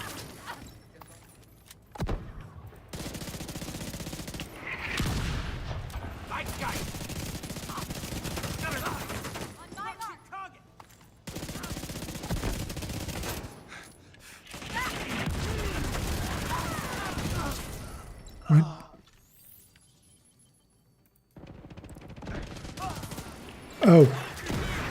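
Riker turrets firing in a video game, with irregular bursts of rapid shots and rattling gunfire that start and stop across the span, separated by brief quiet gaps and a couple of sharp louder cracks near the end.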